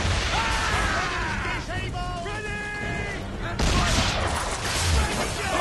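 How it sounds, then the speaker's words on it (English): Ship cannons fire a broadside in an Assassin's Creed 3 naval battle, a dense run of booming blasts over a constant roar of sea and combat, with a fresh burst of explosions late in the stretch; a voice talks underneath. "Just one more broadside, I can get these guys."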